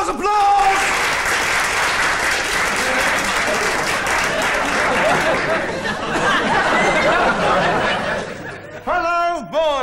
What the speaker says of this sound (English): Applause, applause!